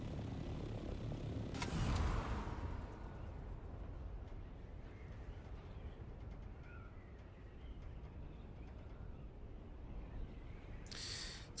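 An aircraft flies in Dune Awakening with a faint, steady engine drone and one brief whooshing swell near the start.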